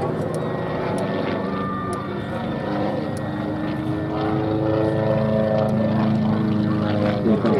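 Propeller aircraft droning overhead at the Duxford VE Day anniversary air show, a steady, fairly loud engine roar with shifting harmonic tones that swell slightly toward the end, with a commentator's voice faintly mixed in.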